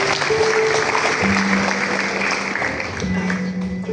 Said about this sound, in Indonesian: Oke, tepuk tangan buat ibunda